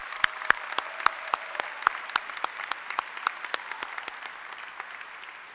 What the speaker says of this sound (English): could we have a round of applause for all the families?